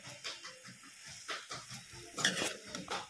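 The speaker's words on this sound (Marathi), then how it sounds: "आता इथे किसलेलं खोबरं टाकून घेऊन भाजी पुन्हा एकदा परतून घ्यायची आहे।" Cowpea leaf bhaji with grated coconut being stirred in a pan, soft scraping and clinking strokes with a faint sizzle, fairly quiet and close, with no talking.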